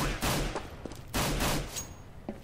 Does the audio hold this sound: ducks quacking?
no